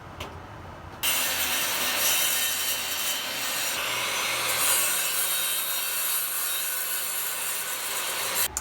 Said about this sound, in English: to cut the stucco, we're using this diamond tip blade in my Makita saw